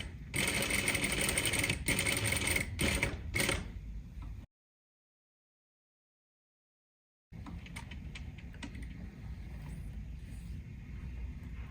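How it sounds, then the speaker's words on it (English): A sewing machine stitches fabric a quarter inch from the edge around curved scallops, running in a loud steady whir with sharp mechanical clicks, stopping for a few seconds of silence, then resuming its even hum. "And you're now stitching 1/4 inch from the edge."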